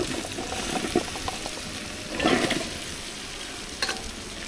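Washed winter vegetables hit lentils frying in a pan for khichuri, giving a steady close sizzle with stirring scrapes and a louder hissing surge midway, no voices.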